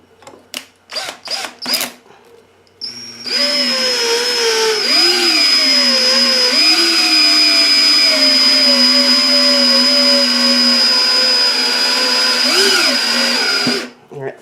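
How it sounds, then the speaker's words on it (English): A power tool cutting deeper threads into a threaded rod while building a coffee bar from a reclaimed door, a few sharp knocks first, then a loud steady whining drone held for about ten seconds with slight pitch dips before cutting off. "I am going to cut the threads on that a little deeper."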